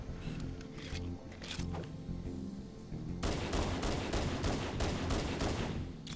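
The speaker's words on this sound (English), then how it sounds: "that grenade waited like 10 minutes to detonate" A grenade detonates in Halo 1 with a sudden burst that cuts in midway over a layer of game noise, followed by rapid crackling pops.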